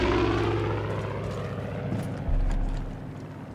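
An airplane engine in Far Cry 5, a loud, steady propeller drone that holds at one level, then shifts and dips slightly partway through. No voices are heard.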